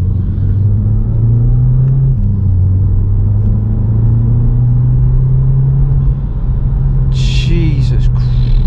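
A Volkswagen Scirocco engine drones steadily from inside the car as it climbs a hill, a loud low rumble with gentle pitch shifts, and a brief higher whine or squeal near the end.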